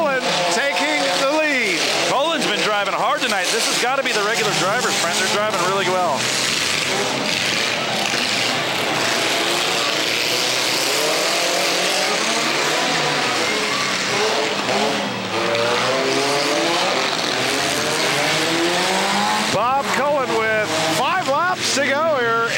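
Stock cars roaring around a dirt oval during a championship night race at a speedway, engines sweeping and revving continuously, loud and busy, with a car spinning out on the backstretch under excited commentary.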